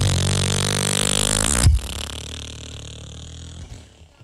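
A person vocally imitates the engine of a 1966 Volkswagen Beetle, giving a loud, buzzy sustained rumble that cuts off abruptly after about a second and a half, then trails into a quieter rough, sputtering tail.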